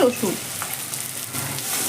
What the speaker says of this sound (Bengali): এই সময় আমি দিয়ে দিচ্ছি এখানে রসুন, পুরো 1 মুঠো ভর্তি ভর্তি